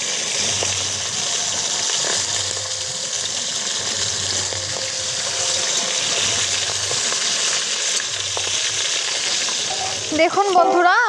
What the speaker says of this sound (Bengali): তেলটা আমাদের গরম হয়ে গেছে, এবার প্রথমে মাছগুলো আমরা সুন্দর করে ভেজে নেব।